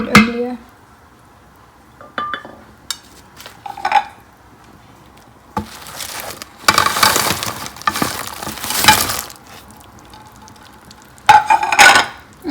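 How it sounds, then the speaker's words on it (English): A spoon stirs thick gram flour (besan) curry in an Instant Pot, intermittent scraping and clinking strokes with pauses between, close and moderately loud, with some faint sizzling. "You have to keep on stirring it in between, or else the gram flour or besan will get stuck to the bottom."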